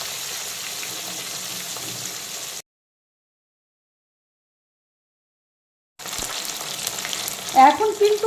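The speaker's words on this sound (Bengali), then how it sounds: "পার্শে মাছের একটা দিক ভালো মতো ভাজা হয়ে গেলে মাছগুলোকে উল্টো করে দেব।" Parshe fish fry in hot oil with a steady, close sizzle that cuts out to silence midway, then returns with a few light clatters.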